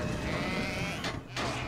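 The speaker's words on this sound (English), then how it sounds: "Look at the sheep dancing." Sheep bleating in the video game Skylanders Spyro's Adventure, a loud, close, wavering bleat that breaks off briefly and then resumes over steady game background sound.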